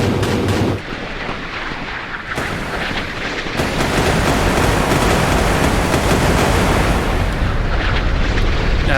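Naval combat in the Sea Power game between 1970s–80s Chinese and British warships, with an Exocet missile fired: dense, continuous rumbling gunfire and explosive bursts roar loudly throughout, with sharper blasts near the start and around the middle.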